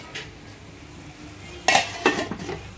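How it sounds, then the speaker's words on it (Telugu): A metal lid is set onto a cooking pot of tomato curry: a quiet lull, then a sharp clank followed by a few lighter metallic clinks close by. "ఇప్పుడైతే దీనిపైన ఒక మూత పెట్టేద్దాం"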